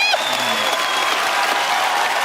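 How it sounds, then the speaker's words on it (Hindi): A studio audience at a comedy talk show bursts into loud, sustained applause and cheering, dense and close, that holds steady for a couple of seconds. "एक बार जोरदार तालियां पाजी ली"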